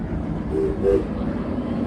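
Six Flags Railroad steam locomotive running at night, a steady low rumble of the engine and cars rolling along, with a brief faint tonal whine in the middle, heard close and continuous.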